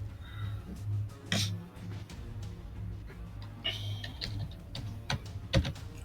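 Typing on a computer keyboard at a terminal, a steady run of light key clicks with a few louder taps, close by and alone over a low background hum.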